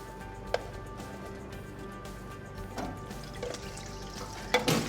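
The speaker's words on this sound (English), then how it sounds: "one of the things we do here is we fry our broccoli" Broccoli flash-fries in hot oil with a steady, close hiss and sizzle, broken by a few brief clinks and knocks near the end.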